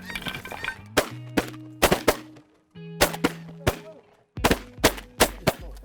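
Shotgun blasts while hunting lesser snow geese in a pea field, sharp loud reports coming in quick clusters of two and three with brief pauses between, with calls and voices around them.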